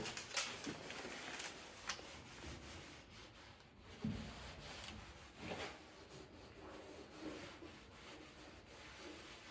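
A rag rubbing Turtle Wax into the painted body of a bumpside Ford Highboy pickup, giving steady scuffing, wiping strokes with a few sharper swipes, close and moderately loud with no talking.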